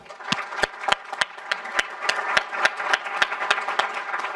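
Audience applause at a community gala, with sharp, evenly spaced hand claps standing out over a steady bed of crowd clapping, fairly loud and continuous.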